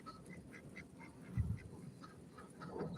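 A female duck quacking loudly in a short burst of calls, with one stronger quack in the middle and more calls near the end, outdoors with no talk.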